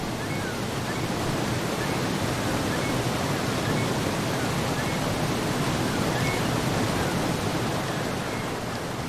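Rushing water of coastal river rapids in Alaska, a dense, steady broadband roar that stays constant throughout, fairly loud and close, with no other distinct sounds.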